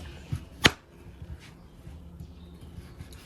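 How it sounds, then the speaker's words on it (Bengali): A knife slicing through a peeled potato for French fries gives one sharp, close chop, preceded by a softer tap, over a low, steady room hum. "ফ্রেঞ্চ ফ্রাই বানানোর জন্য আমি প্রথমে আলুগুলো আপনাদের সুন্দর করে কেটে দেখাচ্ছি"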